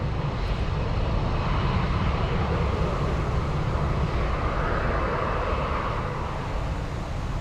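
F-22 fighter jets taking off at Anchorage airport, a broad sustained jet roar at a distance that holds steady throughout, slightly swelling midway, with no voices.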